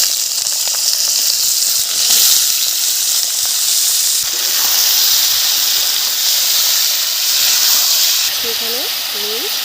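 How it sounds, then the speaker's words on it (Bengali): Beetroot, potato and onion frying in a wok of hot oil with nigella seeds, a continuous loud sizzle and hiss with brief swells, a voice briefly heard near the end. "কড়ার মধ্যে আমি দিয়ে দিলাম তেল, দিয়ে দিলাম কালো জিরে ফোড়ন, আর দিয়ে দিচ্ছি পেঁয়াজ।"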